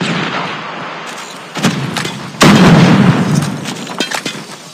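A frag grenade goes off in a multiplayer shooter match, a single loud, heavy boom with a rumbling tail that rises out of steady background game noise and fades over a couple of seconds.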